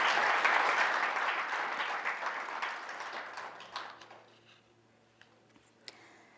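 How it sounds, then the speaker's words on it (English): An audience at the closing session of an Africa CDC regional meeting gives a round of applause. The clapping starts loud and dense, then thins over a few seconds, leaving a few scattered claps near the end. "Let us give a round of applause."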